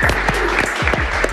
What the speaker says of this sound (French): On peut applaudir Hakim Djemili pour son Hot Ones.